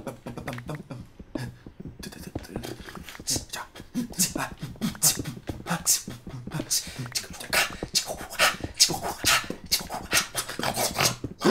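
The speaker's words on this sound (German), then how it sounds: "Verrückte Hunde!" Dogs in the Minecraft video game pant and whimper in rapid, continuous bursts, with someone talking over them.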